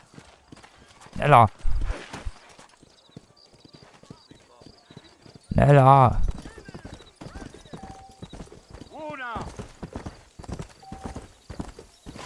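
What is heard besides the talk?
horse galloping in video game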